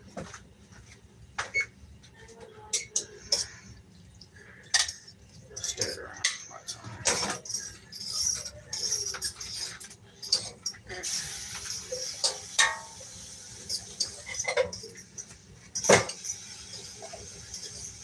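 A fork stirring peas and corn in a dish, with scattered light metallic clinks and scrapes against the bowl, irregular and close, under intermittent talk.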